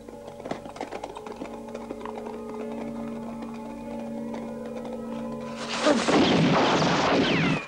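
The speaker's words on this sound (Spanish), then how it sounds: "En cuanto lleguen a ese árbol, disparáis." Gunfire from a firing squad in a Spanish-language western film: a loud burst of blasts breaks out near the end, following a stretch of music and ambience.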